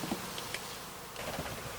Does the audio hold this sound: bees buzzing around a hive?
yes